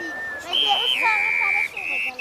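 A small indigenous bird-style whistle, likened to a referee's whistle, sounds as a steady shrill tone that rises in pitch and holds, close and clear, with voices faintly behind it.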